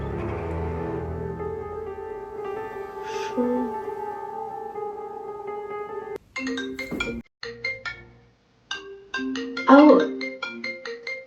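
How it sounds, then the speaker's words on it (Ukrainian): A phone rings with an incoming call, its electronic ringtone repeating short melodic tones that start and stop, with voices talking around it. "Аудіозапис перерваний через е, входящий дзвінок мені знову дзвонить."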